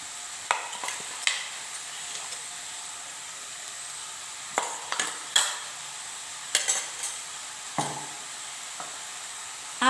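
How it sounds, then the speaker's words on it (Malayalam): Thoran, a Kerala vegetable stir-fry with beans, being stirred in hot oil in a pan: a steady soft sizzle broken by a dozen or so sharp scrapes and clinks of a spoon against the metal, with no one talking. "2-3 മിനിറ്റ് എണ്ണയിലിട്ടൊന്ന് നന്നായിട്ടൊന്ന് ഇളക്കിയെടുക്കണം."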